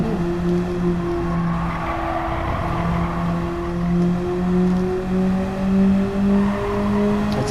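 A 1989 car with a 1.6-liter engine driving in Gran Turismo 7 on comfort tires, a steady droning engine tone holding fairly constant revs with slight pitch wavering, loud and continuous with no talking.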